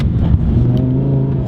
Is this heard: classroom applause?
no